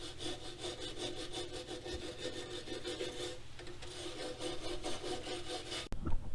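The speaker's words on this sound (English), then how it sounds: "We're going to sand this first and paint behind here" Sanding the bracket area of a steel truck frame on a Suburban 8.1L project: a steady, close, abrasive rasping that runs without a break, with a sharp knock near the end.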